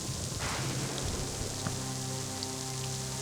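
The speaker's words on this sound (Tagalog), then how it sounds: "Mamaya, titila din yung ulan, ha?" Rain falls steadily in a forest, giving a continuous close hiss of drops striking leaves and ground, with a few louder individual drips. No voices are heard.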